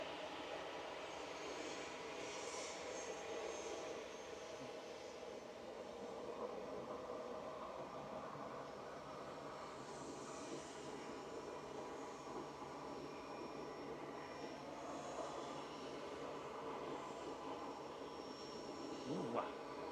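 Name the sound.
EasyJet A320 airliner lining up for departure at Manchester Airport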